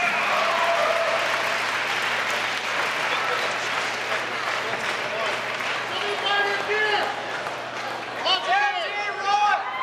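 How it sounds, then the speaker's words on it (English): A crowd at an MMA cage fighting event applauds, a dense sustained roar of clapping with shouts and whistles mixed in, and voices and cheers growing more prominent toward the end. "Ladies and gentlemen, big round of applause for Jared Kilkenny."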